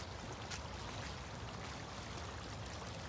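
Water of a small stream in a northern park flows beneath a thin layer of ice, a faint, steady broadband rush and trickle with no voices throughout.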